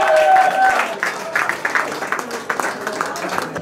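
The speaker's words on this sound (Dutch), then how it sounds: "Bedankt voor het applaus," Applause from a crowd at the Glazen Huis charity event, a steady wash of clapping with some cheering that thins out over a few seconds.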